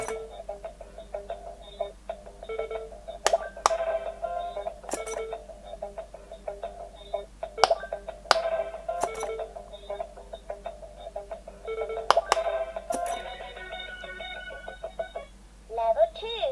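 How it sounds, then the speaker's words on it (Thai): Short electronic beeps and tones from a battery-powered Pop It memory game toy, sounding intermittently in a quiet room with a steady low hum underneath and a person talking between the beeps. "เขาจะมีเสียงตื้องให้กดนะครับ โอเค ถูกต้อง พอมีเสียงตื้องก็กด"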